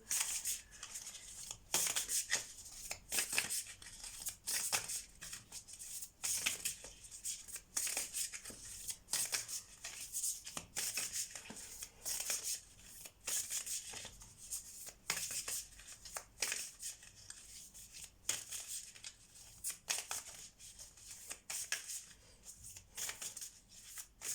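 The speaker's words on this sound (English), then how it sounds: "A bit difficult to shuffle." A large tarot card deck is shuffled by hand, giving repeated papery riffles and soft slaps in irregular bursts spread over about twenty seconds, close and quiet with no talking.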